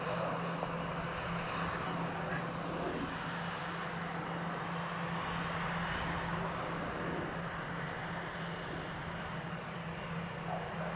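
An Airbus A330 airliner arriving from Malaga at Dublin Airport gives a steady, broad jet roar that holds at an even level throughout, with faint distant voices in the background.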